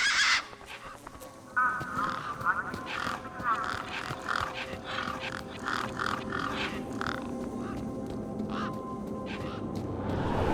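Birds in the video game Beyond a Steel Sky quack and squawk around a truck, a busy flock of repeated harsh calls over a low ambient game soundscape.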